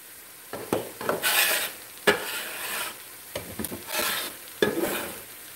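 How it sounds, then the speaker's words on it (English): Ground beef being stirred in a skillet for Texas hash, with repeated scraping strokes and light sizzling in bursts, close and fairly clear with no voices. "let's get this in the skillet with my beef. We'll start stirring it up."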